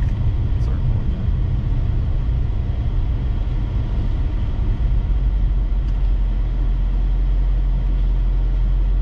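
A Shelby GT350 Track Pack with a manual transmission drives in low gear, its steady engine rumble and drone continuing close and loud throughout with little change.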